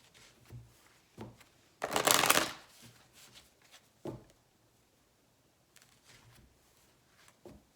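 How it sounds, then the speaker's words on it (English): A deck of tarot cards is shuffled and split, with one brisk riffle burst in the middle and soft taps and card handling scattered before and after, quiet and close. "The cards, as I split the deck"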